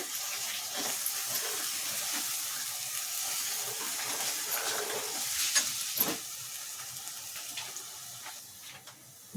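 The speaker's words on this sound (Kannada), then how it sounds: "ಚೆನ್ನಾಗಿ ಮಸಾಲೆ ಎಲ್ಲಾ ಫ್ರೈ ಆಗಲಿ ಎಣ್ಣೆಯಲ್ಲಿ" Masala frying in oil for chicken sambar gives a steady, close hiss of sizzling with occasional stirring scrapes and pops, continuing without talk.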